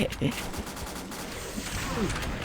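Gunfire in a shooting video game, with rapid bursts of shots running steadily under excited voices talking and shouting throughout.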